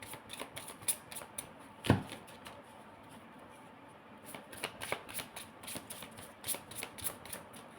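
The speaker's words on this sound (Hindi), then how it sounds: "my last shuffle" Tarot cards being shuffled by hand, a steady run of crisp riffling flutters and soft slaps close by, with one sharper knock partway through and no speech.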